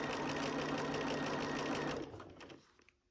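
Sewing machine stitching fabric along a seam line, a steady fast mechanical whir for about two seconds that then slows and fades out as the needle stops.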